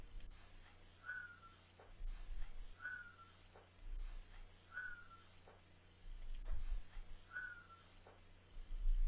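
Four short, faint whistle-like chirps repeat at even intervals over a low background rumble, no voices present.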